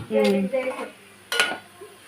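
A drumstick and tomato curry is stirred in a pot, giving a few light metallic scrapes and clinks of a spoon against the pot over a faint sizzle, while someone talks over it.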